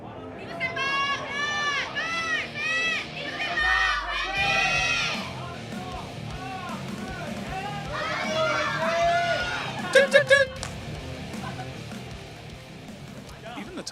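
A crowd of esports fans at a 2023 LCK Challengers League Summer Split match cheers and shouts in bursts, the cheers rising and falling beneath commentators talking over them.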